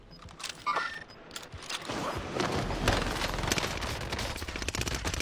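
Rapid gunfire bursts and rattling shots from a shooter video game fill the scene, dense and continuous after a few scattered early cracks, loud against the background.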